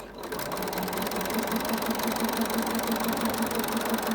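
Close, continuous whirr of a sewing machine stitching three layers of cloth for a face mask, a fast even needle rhythm humming throughout without pause.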